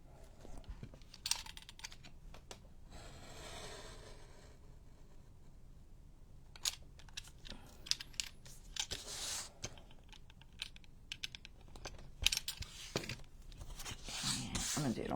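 Paper is trimmed for a junk journal pocket, with scattered crisp cuts, rustles and handling noises coming in short irregular bursts close by, while a person talks intermittently.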